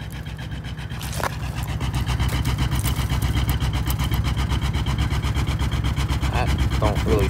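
A Mercury Grand Marquis idles in cold, icy weather just after a cold start, with a steady, loud, rhythmic engine chug and a brief click near the start.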